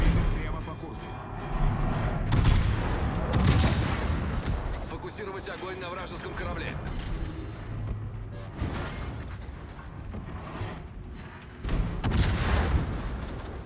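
Heavy naval guns boom repeatedly in World of Warships, with deep artillery blasts and rumbling impacts spread over a busy battle. Someone talks over much of it.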